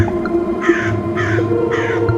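A crow caws three times at an even pace, each call loud, harsh and close, over a steady low background hum.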